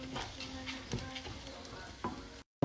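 Rice frying in a pot with a hard Maggi stock cube is stirred, producing a steady close sizzle broken by a few scraping spoon strokes, with a brief dropout near the end.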